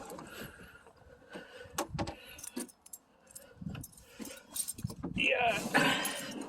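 Car keys for a 1998 Chevy S10 pickup jangle as they are pulled from the door lock, giving a close, scattered metallic rattle with faint voices and cabin noise around it.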